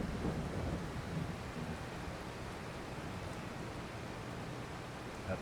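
Steady rain pours alongside deep rumbling thunder in the farming game Farming Simulator 22, a dense, continuous wash of storm noise heard alone and fairly loud.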